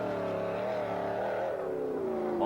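An off-road race truck powers along the desert course of the 1995 Laughlin Desert Challenge, its engine giving a loud, steady, throaty roar that rises and falls slightly in pitch, heard alone.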